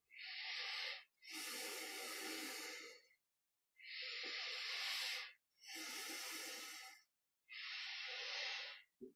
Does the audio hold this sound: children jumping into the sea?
no